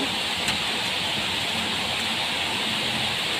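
Wind and rain outdoors form a dense, even wash of hiss and rumble that continues unbroken, loud and close throughout.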